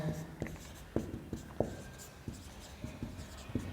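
A pen scratches and taps on a surface while a physics diagram about a convex mirror is explained, short strokes in an uneven rhythm close by with a voice talking over them.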